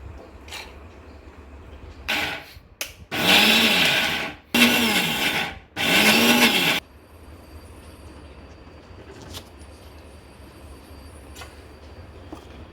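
A mixer grinder grinds soaked chana dal in several loud whirring bursts of a couple of seconds each, with short pauses between them, then falls to quiet kitchen background.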